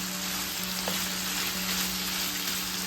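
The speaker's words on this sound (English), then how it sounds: "I have garlic, 1 teaspoon. Cayenne, 1/2 teaspoon. Just want to slightly cook it," A teaspoon of garlic and half a teaspoon of cayenne cooking in a pan, making a continuous gentle sizzle with a faint steady hum behind it.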